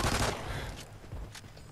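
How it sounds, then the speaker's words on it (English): A dragon with a machine gun for a tail fires in Call of Duty Ghosts Extinction: a short, loud burst of rapid gunfire opens, then scattered sharper shots follow over a busy game backdrop. "The dragon's got a machine gun for a tail."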